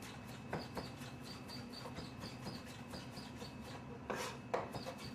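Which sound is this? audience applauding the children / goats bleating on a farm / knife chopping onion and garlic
knife chopping onion and garlic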